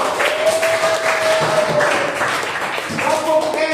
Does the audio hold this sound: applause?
yes